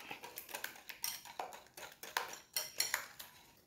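A utensil whisks and scrapes cake batter of sugar and sunflower oil in a bowl, producing a quick irregular series of light clinks and taps against the container, fairly close and moderately soft, with no talking.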